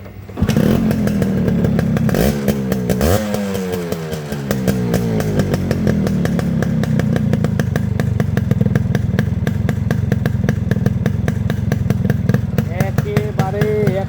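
A Yamaha RX 100 two-stroke motorcycle engine with its original carburettor idles loudly and close by, revving briefly early on before settling into a steady, buzzy idle.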